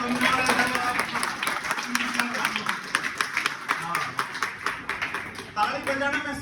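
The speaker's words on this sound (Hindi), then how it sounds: "तालियां बजाओ तो" An audience at a live spoken performance breaks into scattered, rhythmic clapping that builds in the middle and fades, heard alongside a speaker's voice over a public-address sound.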